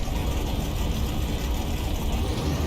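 A rebuilt car engine in Car Mechanic Simulator 21 runs steadily on a dyno, a continuous low rumbling drone that holds an even level throughout with no talk over it.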